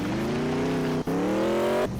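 A car in the Roblox game Mad City drives with a steady, loud engine drone that climbs in pitch twice as it revs, with a brief gear-shift dip in between.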